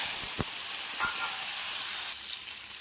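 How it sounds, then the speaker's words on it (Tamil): Small shallots hit hot oil with a steady loud sizzle and hiss, a couple of brief clinks from stirring, and the frying dies down somewhat toward the end. "சின்ன வெங்காயம் போட்டு அதையும் நல்லா வதக்கலாம்"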